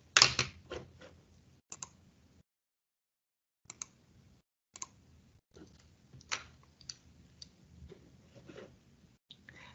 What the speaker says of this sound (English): All I have to do is go to the calculator and type that in.